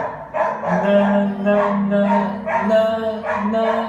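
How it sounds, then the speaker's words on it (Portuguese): Small dog barking repeatedly indoors during a music lesson, a run of sharp close yips and barks in an uneven rhythm, fairly loud. "Cachorrinho chato, hein?"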